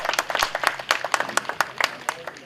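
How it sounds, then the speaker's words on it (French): A small crowd claps for the referee at the opening of a petanque tournament: scattered, uneven hand claps, moderately close, brief and fairly light. "Tonnerre d'applaudissements, s'il vous plaît."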